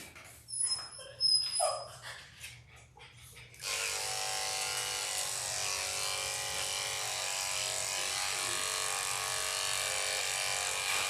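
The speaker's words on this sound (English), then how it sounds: "Now I'm going to shave the pads of his feet." Electric clippers buzz steadily and close up while shaving the foot pads of a doodle dog during grooming, starting after a few seconds of faint whimpering and handling noises.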